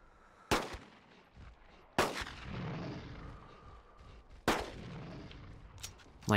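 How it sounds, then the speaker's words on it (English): Three loud revolver shots spaced about two seconds apart in Carnivores Dinosaur Hunt, each a sharp crack trailing into a rumbling echo over quiet outdoor ambience. "those 3 shots point blank still probably won't take it down"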